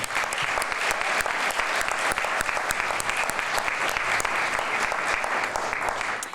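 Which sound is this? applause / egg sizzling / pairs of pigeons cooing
applause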